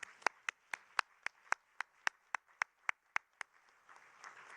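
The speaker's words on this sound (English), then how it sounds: "Round of applause." Claps ring out at an evenly spaced, steady pace in a quiet hall as a conference panel on AI for inclusive development is called to the stage, then fade into a faint murmur.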